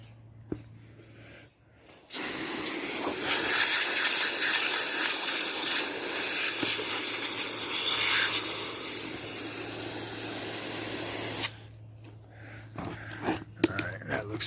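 A water spray hisses steadily while rinsing grime off a Yamaha MT-10 motorcycle, loud and close for about nine seconds, then stops abruptly, with quieter handling sounds before and after.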